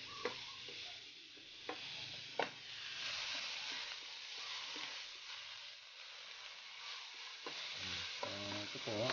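Tamarind pods simmer in a pot on a stove for a Filipino sour string-bean stew, giving a steady soft bubbling sizzle with a few sharp clinks of a utensil against the pot, close and without voices.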